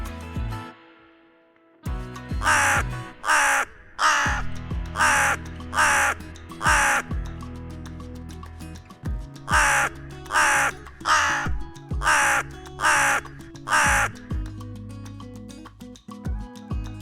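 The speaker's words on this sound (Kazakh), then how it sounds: "Қарға." A crow caws repeatedly in two bursts of harsh, evenly spaced calls, loud and close, with a quiet musical backing underneath.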